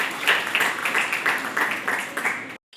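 Audience applause at a women's-education institute workshop on gender-sensitive research, a steady wash of hand clapping with rhythmic swells lasting under three seconds before cutting off abruptly to silence.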